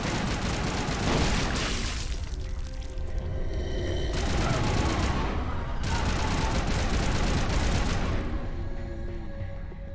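Gunfire in the Mass Effect video game: scattered bursts of weapon fire mixed with game effects and background sound, moderately loud, with no talk over it.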